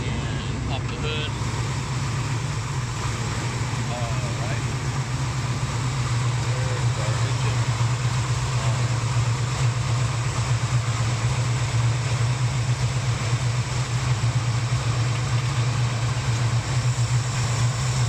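A 1970 Chevrolet Impala Custom Coupe with a 454 V8 idles with the hood open, producing a steady, unbroken low rumble heard up close for the whole stretch.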